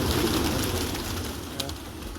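Pigeons coo softly in the early morning at Vanavathukkara temple, low repeated calls at moderate distance over quiet ambient background.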